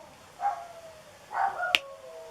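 Two pet dogs howling, one higher-pitched and one lower, in short drawn-out tones heard twice, with a brief sharp click near the end; moderately distant and fairly soft.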